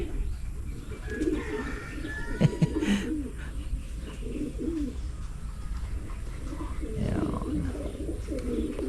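Pigeons coo at their loft in low, throaty bursts throughout, with a few brief chirps and wing flutters, nearby and fairly steady against a busy background.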